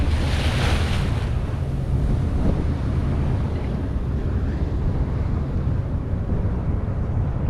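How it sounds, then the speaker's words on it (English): Wave from a chunk of iceberg calving into the water alongside a small cruise ship in Alaska, a steady broad wash of surf and wind noise that stays loud throughout with no speech. "The iceberg just calved and dropped a big chunk in the water, and it brings a wave alongside ship here."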